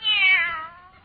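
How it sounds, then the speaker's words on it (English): A kitten gives one clear, close meow that rises and then trails off, alone and loud in a quiet room. "Oh, there you are, you cute little kitten."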